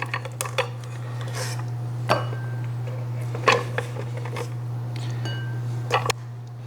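Fruit seeds and flesh being scooped into a bowl, with a metal spoon clinking and scraping against the bowl in a series of sharp, close taps spread over several seconds, over a steady low hum.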